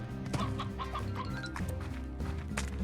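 Stony hens clucking in the Slime Rancher video game, a steady stream of chicken-like clucks and squawks layered over continuous game background sound, moderately loud throughout.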